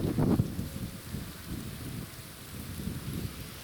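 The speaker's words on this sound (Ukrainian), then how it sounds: "Конкретний дощ. Дивіться, злива." Heavy rain pouring down on an outdoor vineyard, a dense continuous hiss with wind gusts buffeting the microphone, a brief louder thump at the very start.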